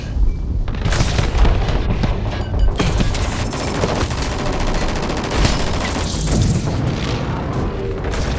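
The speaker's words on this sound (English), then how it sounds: "They're shooting at us." Enemy gunfire in the video game SYNCED, a dense, loud, continuous barrage of rapid shots and heavy booms filling the whole stretch with no pauses.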